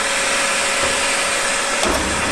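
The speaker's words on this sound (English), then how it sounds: "Put my hoover on," A Hoover vacuum cleaner runs at a bench in a knife-making workshop, giving a steady, loud broadband whoosh with a faint whine throughout and a brief surge near the end.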